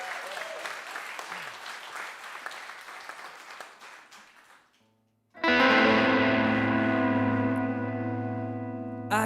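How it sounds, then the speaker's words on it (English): A singer claps his own hands in a small lockdown home session, a dense patter of claps fading over about five seconds, followed by a short silence before instrumental music starts. "I'm going to give myself a little clap before I start."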